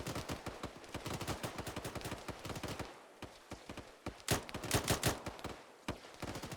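Rifle gunfire in the Arma 3 video game during patrol training, rapid bursts and single cracking shots in quick succession, loud and close with brief pauses.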